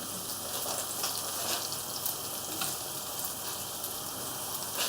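A gammon and potato patty fries on high heat in a non-stick pan, giving a dense, continuous hiss and crackle that holds level from start to finish with no voices.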